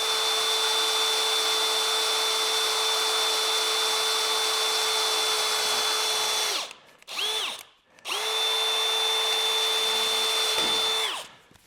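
A power drill with an eighth-inch centering bit whines at a steady high pitch for several seconds, stops briefly twice with short restarts, then runs steadily again; close and loud.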